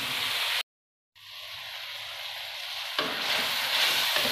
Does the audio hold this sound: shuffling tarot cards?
no